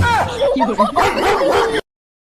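A voice mimics a dog barking with a couple of loud, close 'woof'-like yelps, then cuts to silence.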